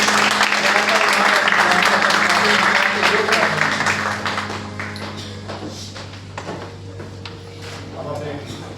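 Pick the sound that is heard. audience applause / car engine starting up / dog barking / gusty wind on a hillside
audience applause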